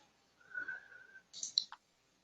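Two faint clicks from a computer mouse with a short gap between them, set against near silence.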